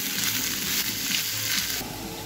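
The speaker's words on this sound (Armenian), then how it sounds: "և կտրին կտապակենք։" Pieces of chicken breast fry in vegetable oil, giving a constant close sizzle that dips slightly in level toward the end.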